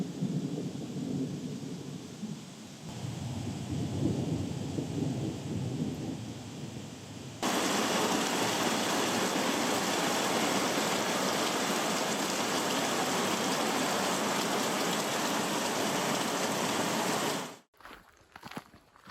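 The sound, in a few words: approaching rain with thunder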